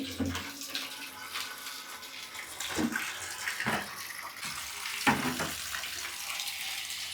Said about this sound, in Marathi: आता लगेच पाणी सोडते आणि मस्त आंघोळ करून घेते